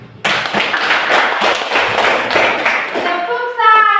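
Students in an Indonesian classroom give a rhythmic clapping salute, a burst of quick patterned claps starting abruptly and continuing steadily, with voices chanting along throughout.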